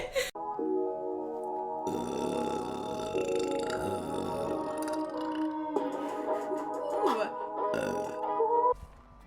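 A girl on a Twitch stream lets out a long, loud, deep burp that rumbles on for several seconds, followed by a second gurgling burp, close to the microphone.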